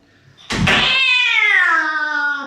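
A cat lets out one long, loud meow close by, opening with a short rough burst and then holding a drawn-out tonal cry that slowly falls in pitch, heard indoors while people handle it.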